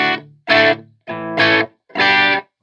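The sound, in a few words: electric guitar through amp with reverb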